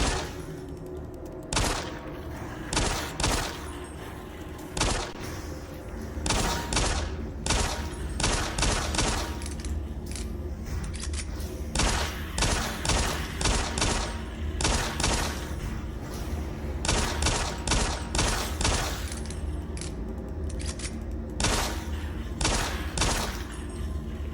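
Rapid bursts of gunfire from the game DOOM 3 come in clustered volleys over a low rumbling game soundtrack, loud and close throughout.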